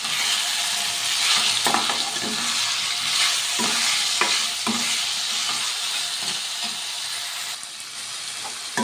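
Tomatoes with salt sizzle loudly in a pan while a spoon stirs them, a steady hiss broken by repeated scraping strokes at an irregular pace, close and with no talking.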